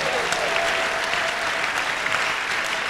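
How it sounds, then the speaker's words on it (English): A church congregation in Hazyview, South Africa claps together, a dense, steady wash of applause from many hands that fills the room evenly for a few seconds. "Clap for Jesus."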